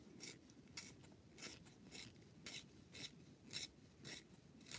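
A blunt Inktense colour pencil being sharpened, giving a series of about ten rhythmic rasping scrapes in short bursts, close and fairly quiet, with no talking.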